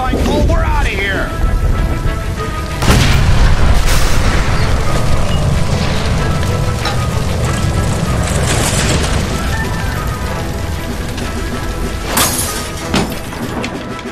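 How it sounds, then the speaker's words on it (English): Heavy boom as a gas line blows up in the video game LA Noire, followed by a loud, sustained rumble and crackling debris that fades slowly, with further bursts and game audio continuing. "Shoot the gas line, Cole! We're out of here"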